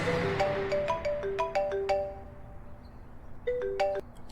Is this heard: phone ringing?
yes